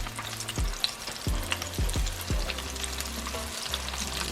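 Mustard-coated fried chicken in hot oil, a steady close sizzle with occasional sharp utensil scrapes and clinks and no talk.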